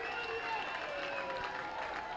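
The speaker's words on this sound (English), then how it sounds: "Blue Crabs fans begin to cheer, knowing that their team almost has a win locked up" Baseball fans of the Southern Maryland Blue Crabs cheering and applauding in the stands, a steady distant wash of crowd noise and clapping with a voice talking over it.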